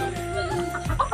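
Chickens on a small farm cluck close by, a short burst of a few overlapping clucks and throaty calls.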